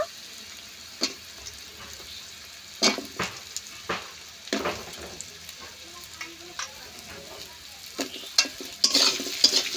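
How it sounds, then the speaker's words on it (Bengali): Sliced potatoes fry in a pan with green chilli and onion, a steady low sizzle broken by irregular scraping knocks of a spatula stirring them, close and fairly loud with no talk. "আলুগুলো একটু হালকা করে ভেজে নেব।"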